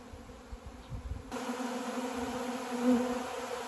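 Honeybees buzz at a spring apiary, a steady droning hum of many insects that swells louder after the first second and holds continuously, close and unbroken, with no voices.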